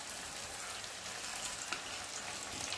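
Curry with sugar and meat masala simmers in a pan, giving a steady, soft, dense sizzle and bubbling hiss with no talk.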